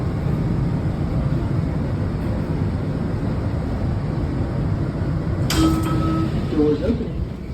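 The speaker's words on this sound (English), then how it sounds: "Doors opening." Metro train doors sliding open at College Park station, a brief hiss and chime cutting in late over steady rumbling train and platform ambience.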